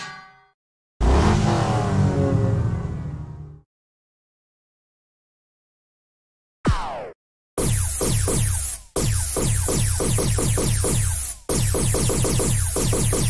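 Engine sound of a Porsche 911 Turbo with a flat-six in the racing game Need for Speed Hot Pursuit 2: loud revving bursts broken by silences and abrupt cuts, with rising and falling pitch sweeps.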